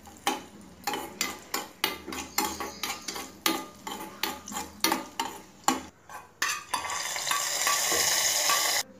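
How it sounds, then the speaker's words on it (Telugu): Coconut pieces lightly frying in a small pan with a spoonful of fat, a spoon scraping and tapping the pan in quick repeated strokes over a low sizzle, then a steadier, louder frying hiss near the end. "కొంచెం కొబ్బరి ముక్కలు వేయించి వేస్తాను దాంట్లో."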